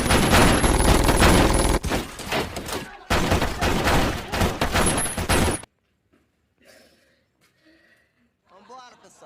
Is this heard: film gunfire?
yes